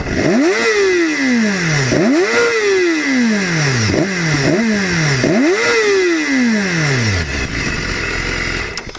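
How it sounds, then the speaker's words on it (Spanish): A BMW S1000RR sport motorcycle is revved hard several times in a row, each rise sweeping up and dropping back with crackling pops. The engine is loud and close, then settles to a rough idle. "Saca como explosiones."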